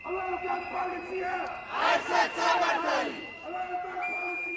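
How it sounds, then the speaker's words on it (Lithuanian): A protest crowd in Tbilisi chants a rhythmic slogan outside police headquarters, many voices swelling together for a couple of seconds over a steady background hum with whistle-like tones, then fading. "Policija visur, teisingumas niekur. Skanduoja kultūrininkai prie kiekvienos policijos būstinės."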